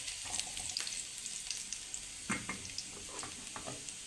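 Chopped garlic and a dried chili fry in hot oil for mixed greens, a steady close sizzle with faint crackles and occasional stirring scrapes throughout.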